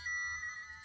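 A phone chirps with a text message notification at a workbench during a Pokémon Red cartridge save battery repair, a steady tonal alert held close by for under a second over a faint low hum.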